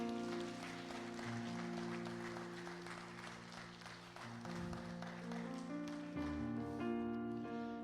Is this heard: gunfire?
no